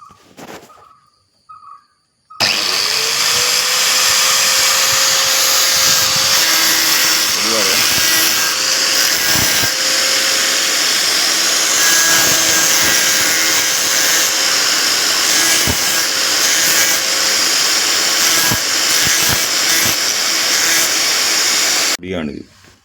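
A handheld power tool shapes a coconut shell for a craft name board, running steadily at a high-pitched whine for about twenty seconds with brief grinding bites as it meets the shell.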